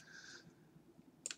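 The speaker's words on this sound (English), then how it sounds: "Sorry, I'm clicking around right now." A computer mouse gives a couple of quick, faint clicks near the end, after a soft high tone fades out, in an otherwise quiet room.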